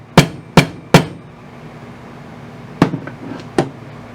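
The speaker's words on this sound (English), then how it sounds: "I'm going to tap it in place with a brass hammer" A brass hammer taps a brass shell onto a 12-gauge shotgun snap cap, giving six sharp, close metallic strikes: three quick ones, a pause, then three more, each standing alone over quiet room tone.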